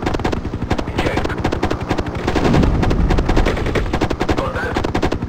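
Rapid machine-gun bursts from an attack helicopter in the 1998 combat game Hind, loud and continuous over the constant thrum of rotor noise, without pause.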